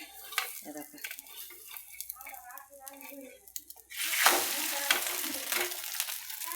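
Oil poured into a hot pan sets off a sudden, loud sizzle partway through that keeps hissing steadily to the end, after quieter utensil scraping and handling sounds near the start.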